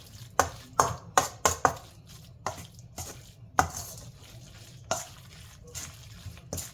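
A spoon stirs a Solomon Gundy mixture being darkened with browning, giving a run of sharp, close clinks and scrapes against the pot, quick at first and then spacing out over quiet background.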